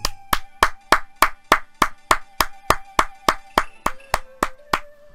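Seventeen sharp hand claps ring out in a steady, even rhythm, loud and close, with a faint tonal background underneath.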